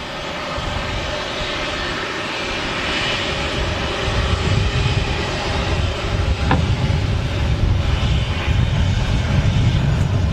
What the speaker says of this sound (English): another Ryanair 737-800 here, arriving in from Shannon in the Republic of Ireland.